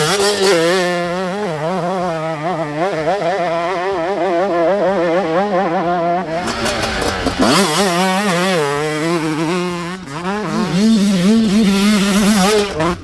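A Fantic XX125 two-stroke motocross bike being ridden, its high-pitched engine revving and rising and falling steadily through the gears, loud and close throughout, with no talking.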